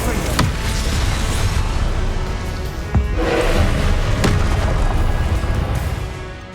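An explosive Confringo spell in a video game lands as a booming blast over dense, rumbling game noise, with a few sharp cracks and impacts, loud and continuous throughout.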